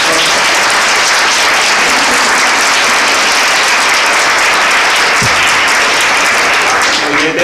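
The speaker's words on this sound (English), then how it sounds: "So one more time, please give the panel a round of applause." Sustained applause from a forum audience thanking a panel on political issues, dense and steady clapping filling the room from start to finish with a faint murmur of voices mixed in.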